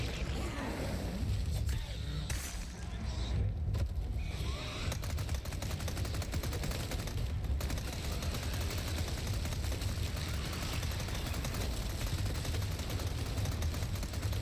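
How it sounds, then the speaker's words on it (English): Sustained, dense automatic gunfire from Resident Evil 4 Remake as regenerators are shot while transforming, loud rapid bursts running nearly unbroken for the full stretch, with a brief dip early on. "Just keep shooting when he's transforming."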